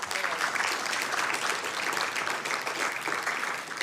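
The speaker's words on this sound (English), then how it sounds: "That deserves a round of applause." An audience at a city council meeting applauds, a thick, steady wash of many hands clapping at once, fairly loud and continuous throughout without a break.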